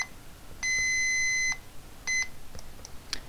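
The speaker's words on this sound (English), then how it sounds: "if you select scream, it'll let out a long, loud beep" A Mobile Lite tracking device sounds its scream alert: a long, loud electronic beep of nearly a second, then a shorter second beep, heard alone over quiet room noise with a faint click near the end.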